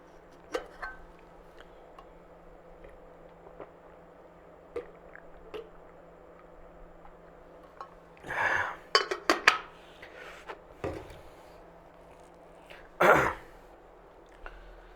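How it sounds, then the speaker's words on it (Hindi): A teacher in an online Hindi maths lesson pauses to drink water. A quiet room with a steady low hum, then a few close glass and dish clinks, a short cluster of handling noises and one sharper clink near the end. "1 सेकंड का टाइम देना पानी पी लेता हूं।"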